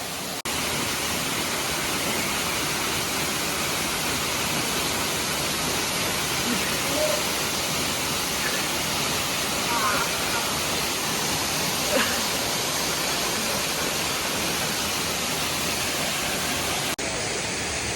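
Steady, loud broadband roar of a waterfall at the end of a cold hike, filling the whole stretch as continuous rushing water with no break.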